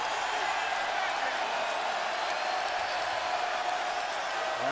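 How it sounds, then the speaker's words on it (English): Arena crowd at a 2009 Eastern Conference Finals game between the Cavaliers and Magic, jeering an air ball in a steady roar of cheers and mocking noise that holds the whole time. "And the crowd enjoys that air ball."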